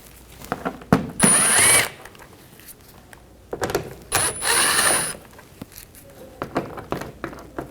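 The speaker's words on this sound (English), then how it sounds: "Underneath, we're going to take these screws out, use a T20 socket, remove all of these." A power tool with a T20 socket backs screws out of a 2014-2020 Nissan Rogue 2.5L, giving two loud whirring bursts close by, separated by small clicks and handling noises.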